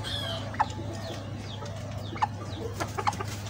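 Golden Sebright chickens give a few short, sharp clucks at scattered moments over a steady low hum, near and moderately loud.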